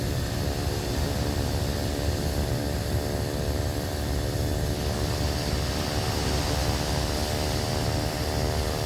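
A Turbine Duke aircraft taxies in reverse in Microsoft Flight Simulator, giving a steady, loud turbine and propeller roar with a broad rushing hiss and no break.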